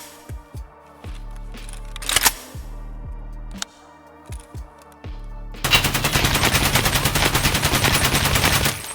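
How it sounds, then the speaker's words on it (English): Suppressed rifle in a shooter game fired from a standing stance: clipped, muffled single shots and short bursts with mechanical clacks, then a sustained full-auto stream near the end, loud and close. "This will be standing recoil, suppressed."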